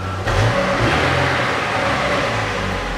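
A 2007 Chevrolet Lanos engine revving after its rear muffler was replaced, a loud, close exhaust note that rises sharply with the throttle and then holds a deep, even drone.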